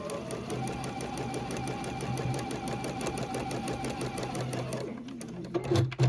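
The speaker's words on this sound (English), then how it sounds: "Pop it underneath and stitch your 1/4 inch seam all the way to the end." A sewing machine runs a quarter inch seam through quilt fabric, a fast, even mechanical rattle that carries steadily for several seconds at moderate volume before stopping, followed by a few light handling clicks.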